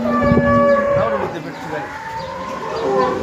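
A dairy cow at a cattle market moos loudly and nearby in a long, drawn-out low call, with background noise and another faint moo toward the end.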